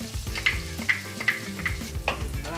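Onion, garlic and parsley fry in melted butter over medium heat, a steady low sizzle with a few sharp clicks of stirring or spatters scattered through it, close up and with no voices.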